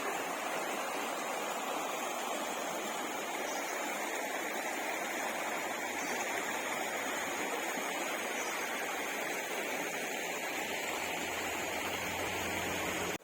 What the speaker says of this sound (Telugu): సౌండ్ చూడండి చాలా రిలాక్స్గా ఉంటుంది వాటర్ సౌండ్ సూపర్ అన్నమాట సెలయేరు